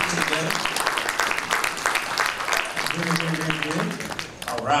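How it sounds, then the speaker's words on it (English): A crowd at a college campus talent showcase claps in a dense, sustained round of applause, loud and close, with voices calling out over it and cheering rising toward the end. "give them a round of applause for everyone that helped put it together"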